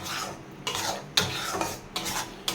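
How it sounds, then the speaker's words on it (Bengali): Chana dal paste stirred continuously in a hot pan, several close, scraping strokes of a spoon against the pan in an uneven rhythm with faint sizzling between them. "পেস্টটাকে ঢেলে দিয়ে আমি কন্টিনিউয়াসলি নাড়তে থাকবো।"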